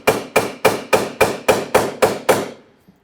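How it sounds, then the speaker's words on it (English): A small punch is tapped with a hammer to drive a rivet through on a 1997-2006 Jeep Wrangler during fuel pump replacement: nine evenly spaced, sharp metallic taps, close and loud, with no talking. "what we're going to do is just tap this through"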